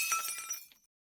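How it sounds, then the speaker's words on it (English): A glass chandelier crashes and shatters: a bright, close burst of breaking glass with clinking fragments that decays quickly into silence within a second. "it crashes into a glass chandelier"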